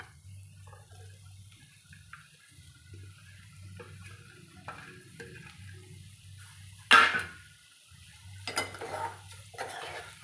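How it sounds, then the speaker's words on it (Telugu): Cut ridge gourd pieces tipped into a pan for a Beerakaya curry and stirred, with a sharp clatter of utensil against metal pan rising above a steady low background hum, followed by a few softer scraping knocks. "గోలిన తర్వాత బీరకాయలు వేసుకోవాలి. కట్ చేసిన బీరకాయలు"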